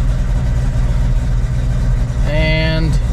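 Ford Bronco idling with its exhaust switched to loud mode, a deep steady rumble throughout, rising briefly in a short rev near the end before settling; close and loud.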